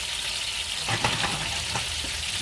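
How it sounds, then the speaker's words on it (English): Brussels sprouts sizzling in a pan of bacon fat and salted butter, a steady close hiss of frying with soft crackles and a few brief pops. "let these Brussels sprouts simmer in this"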